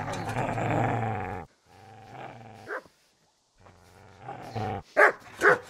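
In the medieval game Kingdom Come: Deliverance, a dog growls in a long, low snarl, then gives several sharp, loud barks after a brief pause, all close by.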